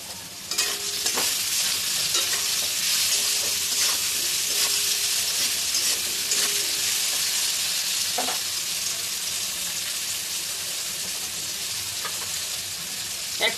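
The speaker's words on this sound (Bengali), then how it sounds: "এটা একটু হালকা ভাজা ভাজা করে নেব।" Jackfruit seeds and shrimp lightly frying in a pan, with a steady hiss and sizzle of hot oil and repeated scraping stirs of a utensil against the pan, close and continuous.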